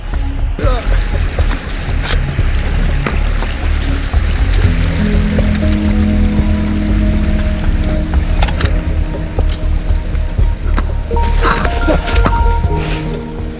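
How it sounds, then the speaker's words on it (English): A brook swollen by snowmelt and heavy rain rushes loudly and continuously close by as it is forded on a hike, a dense, steady roar of fast-flowing water. "we do have to ford this brook, and it's kind of running quite strong at the moment"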